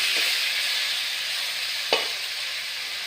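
Biryani ingredients for a home-cooked chicken biryani fry in hot oil, giving a steady, bright sizzle throughout, with two brief scraping stirs of the spoon, close and fairly loud.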